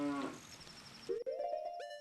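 In a Zelda video game, a cow gives a short low call, then after a pause a longer moo that rises and holds. Bright game chimes sit faintly behind, and nobody talks.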